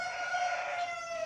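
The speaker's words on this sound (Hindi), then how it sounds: "ये पीली लाखी नटिया है।" A yellow Lakhi Natiya aseel rooster, size 15.5, gives a short, steady, reedy crowing call close by, a single sustained note with no talk over it.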